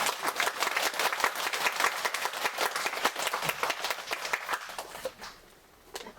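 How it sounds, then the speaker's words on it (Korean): An audience at a lecture breaks into applause, a dense patter of many hands clapping together for about five seconds before thinning out and fading, with no speech over it. "이렇게 박수 한번 치셔."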